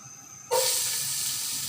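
Chopped onion dropped into hot oil in a pan bursts into a sudden loud sizzle that holds steady as a close, bright hiss after a quiet start.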